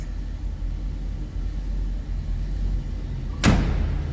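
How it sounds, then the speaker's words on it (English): A door on a 1955 Chevrolet 210 two-door post slams shut once with a sharp, close thud, heard over the steady low rumble of the idling engine. "Door closes nicely."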